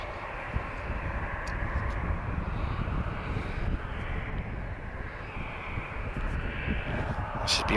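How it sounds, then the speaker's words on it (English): An Azores Airlines Airbus A321neo arriving at Lisbon airport from Ponta Delgada. A faint, distant jet rumble holds steady through the stretch, with light wind noise and a few brief clicks. "inbound is Sierra 4124 Azores Airlines, arriving from Ponte Delgado. We've got an A321neo"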